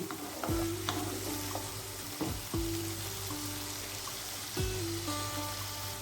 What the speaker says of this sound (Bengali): এবার এটাকে একটু নাড়িয়ে যাতে না লেগে যায় সেই জন্য